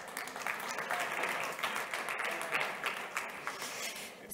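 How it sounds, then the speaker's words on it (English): An audience at a health congress applauds steadily, many hands clapping in a dense, even patter at moderate distance, with no speech over it. "Please give an applause."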